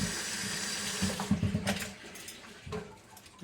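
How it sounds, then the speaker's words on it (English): Tap water runs while potatoes are rinsed for homemade mashed potatoes, a steady moderate splash and trickle with a brief louder burst of handling near the middle. "Let's get these potatoes. And rinse your potatoes off."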